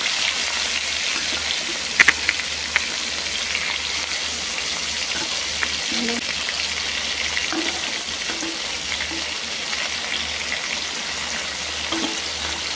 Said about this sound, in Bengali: এখন আমি আস্তে আস্তে সব মাছগুলো দিয়ে দেব